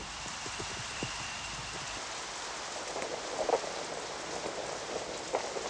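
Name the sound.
rain falling on fighting ants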